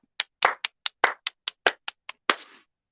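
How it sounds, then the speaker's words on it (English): Sparse clapping at a comedy show, eleven distinct sharp claps in an uneven rhythm over a few seconds, fairly close and clear against silence, more like a few hands than a full crowd. "You can clap for him though."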